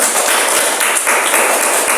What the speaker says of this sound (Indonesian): tepuk tangan untuk Mercy